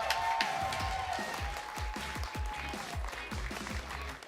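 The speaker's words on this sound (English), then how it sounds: "keep the applause going for the third person qualified for Tokyo, ZEZAS" A crowd applauds at a Summoners War esports event, the SWC2024 Americas Cup, with a steady patter of many hands clapping at moderate distance, briefly under a voice.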